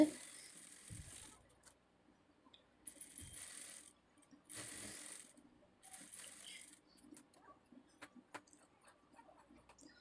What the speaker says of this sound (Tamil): இன்னொரு பக்கமும் நான் போட்டுக்கிறேன் தையல்